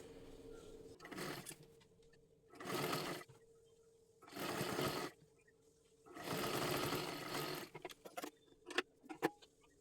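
Sewing machine stitching a folded strip of saree fabric, heard in four separate whirring bursts of a few seconds each, with short pauses and small clicks and handling noises in between.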